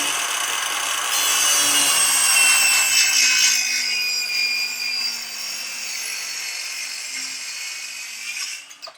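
A handsaw cuts through wood along a speed square in steady, rasping back-and-forth strokes, loud and close, tapering off as the cut finishes; no talking.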